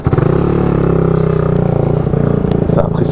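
A Yamaha R125 motorcycle engine revs up from a start, a loud, close, buzzy rasp that climbs and pulses with rapid throttle blips and some clattering, with no voices over it.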